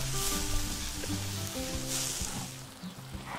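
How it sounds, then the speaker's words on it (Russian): Mackerel and carrots stew and sizzle in a kazan, a steady close frying hiss filling the whole stretch with a low bubbling rumble beneath and no voices. "Добавляем морковь. Пусть они вместе тушатся."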